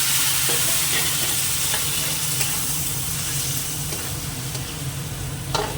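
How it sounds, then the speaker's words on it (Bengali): Garlic, dried red chili and radhuni spice fry in oil, producing a strong, continuous close sizzle with light scraping stir strokes and a sharper clatter near the end. "লাল করে ভাজা হয়ে গেছে এটা ভেজে দিলাম"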